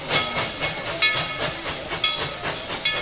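A passing Tweetsie Railroad train clatters rhythmically with hissing bursts, its wheels beating a steady repeated pattern close by.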